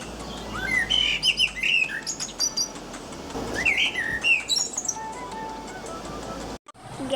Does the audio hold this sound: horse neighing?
no